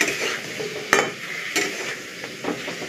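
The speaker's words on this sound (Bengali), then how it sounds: "স্বাদ মতো লবণ, জিরে ধনে বাটা দিয়ে আবারও নাড়ব" Spices stirred in a pan with salt and a paste of ground cumin and coriander, a gritty scraping with a couple of sharper clinks against the metal over a soft background sizzle, heard close with no talking.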